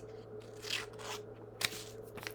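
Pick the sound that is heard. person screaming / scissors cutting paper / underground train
scissors cutting paper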